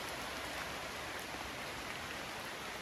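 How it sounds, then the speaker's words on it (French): Rain falling in the Philippines, a faint, steady hiss of drops pattering on surfaces with no pauses or voices. "Il pleut."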